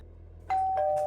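An electronic doorbell chimes twice in quick succession, clear and close, after a moment of quiet room hum.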